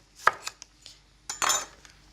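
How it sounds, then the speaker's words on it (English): A knife cuts through a piece of fresh ginger on a board, heard as a few sharp separate taps followed by a longer scraping slice, close and clear with no talking. "I'm just going to slice about a 4 centimetre piece of ginger."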